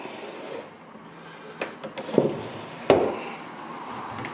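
Drawers of a mid-century wooden sideboard sliding open and shut, giving a few soft wooden knocks and thuds at close range in a quiet room.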